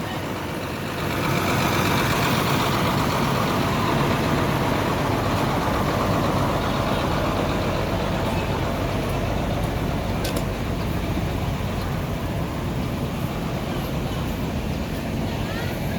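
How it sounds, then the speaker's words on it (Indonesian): Executive-class Rosalia intercity bus engine idling at a busy Palembang ticket stop, a steady low diesel rumble running throughout, with people talking faintly in the background. "Masih sehat ya mesinnya, kelihatannya."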